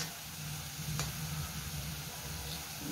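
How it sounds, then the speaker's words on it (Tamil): Onions sautéing in a pan while cooking a chicken dry masala, a steady soft sizzle and hiss with a faint stir around the middle, close and fairly quiet, no talking. "வெங்காயம் நல்லா ப்ரௌனாக வதங்கிடுச்சு"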